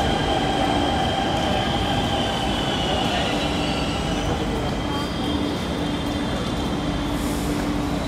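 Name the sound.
metro train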